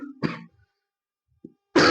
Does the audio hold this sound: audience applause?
no